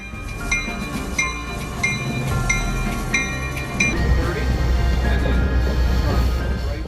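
Rumbling train passing over a level crossing freshly paved with asphalt, a steady heavy roar with faint repeated metallic clicks early on, then a louder, denser rolling rush.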